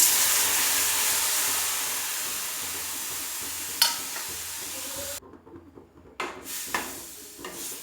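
Hilsa fish curry frying in a hot pan as water is poured in: a loud, steady sizzling hiss that suddenly drops away into quieter bubbling with a few soft clinks of utensils.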